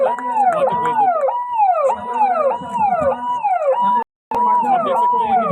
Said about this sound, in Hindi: आप देख सकते हैं कि जैसे एम्बुलेंस आ रही है